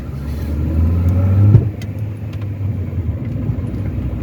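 A Mini One 1.6 16v with engine troubles pulls away, its mid-pitched engine rising to a brief peak then settling into a steady rumble as it drives off, with no voices.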